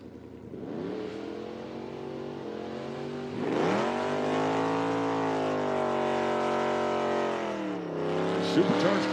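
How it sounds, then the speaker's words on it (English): Supercharged drag racing cars roar off the line at an IHRA Outlaw Nitro Series event, engines revving up in rising sweeps and holding a loud, sustained howl, with speech heard over the racket. "Supercharged cars a little bit louder than their non-supercharged counterparts."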